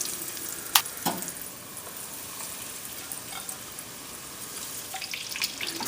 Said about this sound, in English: Fry them real good on all sides until golden brown